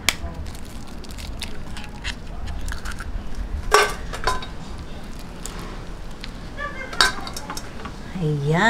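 Dumpling filling of vegetables, sesame oil and egg being mixed in a bowl, with a utensil scraping and clinking against the bowl, wet squishy stirring, and a few louder knocks near the end.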